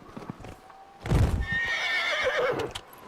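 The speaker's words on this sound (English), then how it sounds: "That's my horse." A horse in the video game Dragon Age Inquisition gives a loud, close whinny lasting a couple of seconds, preceded by soft hoof clip-clops.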